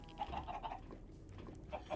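Chickens cluck in the video game Minecraft, with a few short, repeated clucking bursts over a steady background of game ambience.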